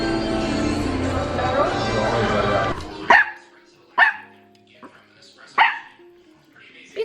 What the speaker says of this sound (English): Be quiet, don't bark.